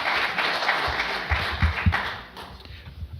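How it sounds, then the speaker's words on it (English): Audience applause during a book discussion, a short burst of dense clapping close by that fades somewhat toward the end. "It deserves a round of applause."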